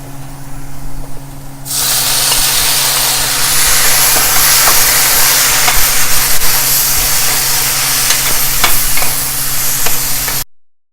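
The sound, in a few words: tomato added to frying onions in pan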